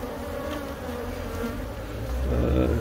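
Bees buzz steadily and continuously at close range while a bee colony is removed from a tree, a dense droning hum that swells slightly toward the end.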